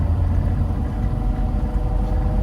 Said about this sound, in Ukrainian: Автомобіль голосний гучний, тут ізоляції нема